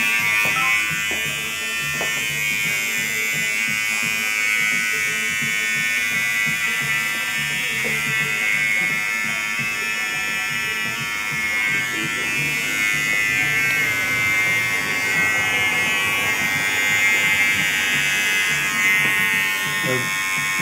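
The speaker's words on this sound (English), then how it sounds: "I'm holding them about a quarter of an inch above the hair, so that it clamps it, but it allows the movement of the clipper as well" Small electric hair trimmers buzz continuously while sculpting patterns into hair at a salon demonstration, a steady, fairly loud drone with a few shifts in tone as the clipper moves.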